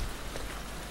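Steady rain falls in The Last of Us Part II, an even, continuous hiss of drops on surfaces, moderately quiet and with no voices over it.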